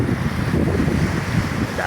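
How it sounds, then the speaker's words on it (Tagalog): Strong wind and rough waves at sea in bad weather near a bamboo fish corral make a steady, close roar and rumble that buffets the microphone without a break. "alon pa rin, sama pa rin ang panahon"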